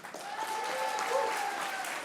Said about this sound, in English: we begin to your enthusiastic applause with Steph Mackenzie, NHS Highland.